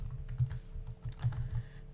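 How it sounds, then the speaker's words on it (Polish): Quick bursts of clicking keystrokes on a computer keyboard as a web address is typed, close and fairly quiet, in two short runs. "I wpisujemy adres, na przykład abc.html."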